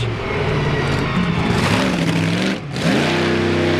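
A 4x4 off-road truck at a four-wheel jamboree competition revs loudly up close, its engine pitch climbing and falling through several throttle bursts, dipping briefly before surging again, with no voices over it.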